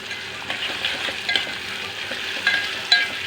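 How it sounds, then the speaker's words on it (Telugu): A tempering of spices for potato curry fries in hot oil, giving a close, steady sizzle broken by scraping stirring strokes, with no one talking. "ఇగో ఆలుగడ్డ కర్రీకి పోపు, ఆలుగడ్డకి పోపు చేస్తున్నా ఫ్రెండ్స్"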